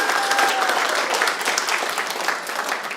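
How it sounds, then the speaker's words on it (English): Sustained applause from a church congregation during a Sunday service fills the room, a dense, steady wash of many hands clapping at moderate volume without a break. "Let's give a big round of applause for our future generations"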